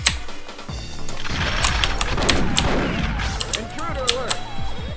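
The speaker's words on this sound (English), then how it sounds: "Now we need to detonate our remote mine from before." A remote mine detonates in the video game Perfect Dark, sounding as a burst of explosive blasts and gunfire-like bangs layered over game sounds, fairly loud and sustained.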